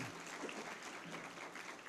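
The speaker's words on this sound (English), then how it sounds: "Give him a round of applause." An audience at the 2013 Dr. John W. Rice Diversity and Equity awards ceremony applauds in a steady, distant wash of clapping that stays even and faint throughout.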